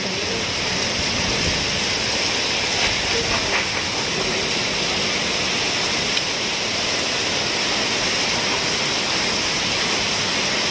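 Dense, steady roar of heavy rain pouring down without a break, loud and close, with a constant hiss and no voices.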